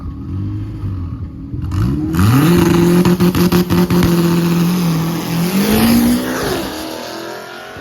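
A K-swap race truck engine roars close by on a race track, revving up with rising pitch and holding a loud, steady drone, then climbing again as it pulls away.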